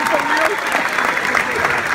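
An audience at a church-style gathering breaks into loud, sustained applause, with dense clapping filling the whole moment close by.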